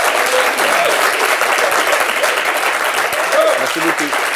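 Warm, loud applause from an audience at a music school masterclass welcoming a musician, a thick continuous patter from many hands lasting throughout, with a faint voice mixed in.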